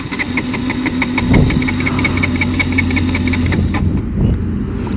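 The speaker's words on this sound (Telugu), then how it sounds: "ఒక 3 times ట్రై చేస్తా బైక్ స్టార్ట్ చేయడానికి" KTM RC 125 motorcycle engine cranking and catching, a steady running engine drone with a knocking rhythm, close and fairly loud throughout, with no speech.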